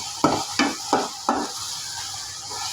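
Onion and garlic stirred in hot oil with salt: four rhythmic scraping strokes of a spoon through the pan over a continuous sizzle, close and fairly loud, trailing off into plain frying.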